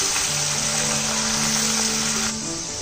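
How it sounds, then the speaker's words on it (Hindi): Sweet corn kernels deep-fry in hot oil with a steady, dense sizzle and bubbling that holds close and loud for about three seconds, easing slightly near the end, with no talking. "अब इनको हम गोल्डन होने तक फ्राई करेंगे और निकाल लेंगे"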